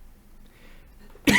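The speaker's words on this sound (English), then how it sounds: "I don't know why I'm coughing." A single short, sharp human cough bursts out at the very end after a quiet stretch.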